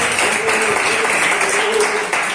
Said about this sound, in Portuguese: batendo uma linda salva de palmas que agradece e exalte ao nome do Senhor Jesus